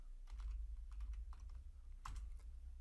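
Quick bursts of keystrokes on a computer keyboard, a few irregular clusters of taps close by over a steady low hum, with no voices.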